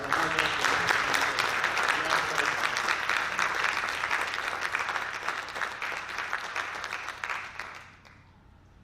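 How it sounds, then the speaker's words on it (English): A board meeting audience gives a sustained round of applause that is dense and steady and then tapers off near the end, with a voice briefly speaking over the clapping. "give them another round of applause for all their hard"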